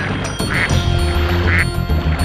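Two quick rubber duck squeaks from the PS1 game Spyro 2: Ripto's Rage, Mystic Marsh level, spaced about a second apart over a steady, thumping in-game music loop.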